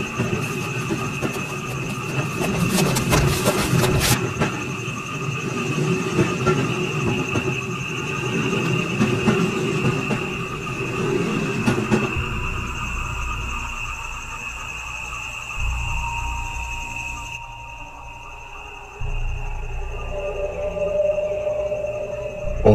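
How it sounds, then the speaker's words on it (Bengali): A train pulling away as a sound effect in a Bangla horror story, a steady mechanical rumble and drone that thins out and fades, with chirping insects in the background. "কিন্তু তখনই ট্রেন ছেড়ে দেয়।"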